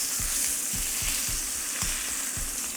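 Meat browning in fat in a single pot, a loud continuous sizzle close up with regular low thumps and scrapes of stirring, no talk.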